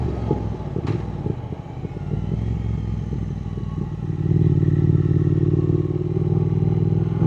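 A motorcycle engine runs steadily close by with a low, throbbing rumble that grows fuller and louder after a few seconds, joined by light mechanical clatter.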